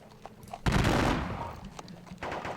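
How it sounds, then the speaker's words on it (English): A musket volley in the Thirty Years War strategy game, Battle of Breitenfeld: a sudden loud burst of gunfire that rolls and fades over about a second, with further fainter shots following alone. "I'm just gonna see if I can do some firing."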